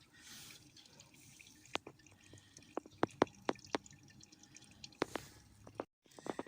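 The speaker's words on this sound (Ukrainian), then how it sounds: "Переціжую жмих із винограду." Wet dripping and squishing as juice drains from pressed grape pomace during winemaking, with scattered sharp drips and splashes over a low trickle.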